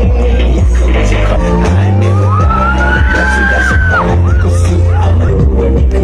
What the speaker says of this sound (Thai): เวลาเรากรี๊ดเรากรี๊ดยังไง